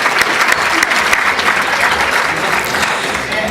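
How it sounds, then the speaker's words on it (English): Steady audience applause fills a hall at a high school hall of fame dinner, honoring the caterers with continuous, dense clapping from a large seated crowd. "let's give a round of applause to our friends at Presidential Caterers for a wonderful meal"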